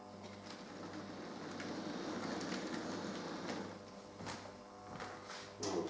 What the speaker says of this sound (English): So the main freight train will just back up a little.